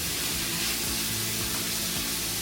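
Tomatoes with wilting greens stir-frying in a hot pan for a pasta bake, a steady loud broadband sizzle with scraping stir strokes underneath, no voices.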